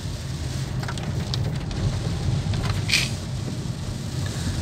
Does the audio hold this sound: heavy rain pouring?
yes